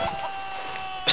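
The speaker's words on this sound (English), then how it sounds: "Chicken." Chicken clucking in the Minecraft Story Mode video game: a few short, soft clucks over faint game ambience, ending in one slightly louder squawk, with no one talking.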